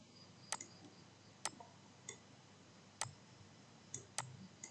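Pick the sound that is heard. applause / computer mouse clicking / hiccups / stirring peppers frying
computer mouse clicking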